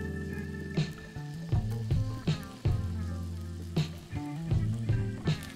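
Vegan teriyaki "chicken" skewers on a grill, a close crackling sizzle with repeated sharp spits and pops over steady background music.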